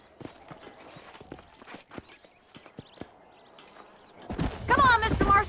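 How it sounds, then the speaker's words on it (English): Horses' hooves clip-clop in a loose, irregular rhythm on the ground in the western game Red Dead Redemption, fairly quiet at first, before a louder, denser burst of noise near the end. "These are fine horses."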